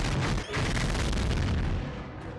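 Rapid dense gunfire and booming blasts from a bullet dance attack in the video game Gungrave, a loud continuous barrage with a brief dip near the start before tapering off.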